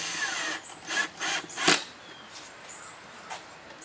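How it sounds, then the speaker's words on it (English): A cordless drill driving screws into a bookcase whirs in several quick bursts, each a brief high-pitched spin, fairly close and moderately quiet, with short pauses between. "I prefer to use my"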